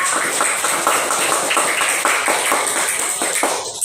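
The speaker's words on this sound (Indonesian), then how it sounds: "Sekali lagi tepuk tangan buat Nabila." A class of students claps for a classmate in a fast, regular rhythm, the crisp claps repeating steadily and fairly close with no talking.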